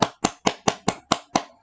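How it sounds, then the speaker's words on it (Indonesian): A classroom of children claps in unison, seven sharp, evenly spaced claps in quick rhythm, close and loud with no talk. "Tepuk tangan dulu buat semua untuk pendiri negara kita."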